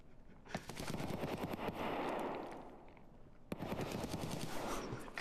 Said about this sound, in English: What the fuck are they firing at?